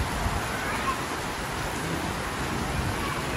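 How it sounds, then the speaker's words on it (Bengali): Heavy rain pours down steadily with a dense, continuous hiss that stays even throughout, with no clear talk over it. "কি জোরে সোরে বৃষ্টি হচ্ছে।"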